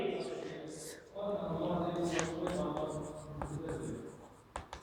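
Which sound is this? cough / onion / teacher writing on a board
teacher writing on a board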